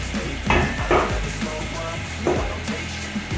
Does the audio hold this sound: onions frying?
yes